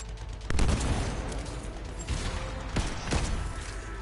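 Weapon fire in the game Anthem rings out in a series of sharp, loud shots amid a busy, continuous battle rumble, with several distinct cracks spaced irregularly.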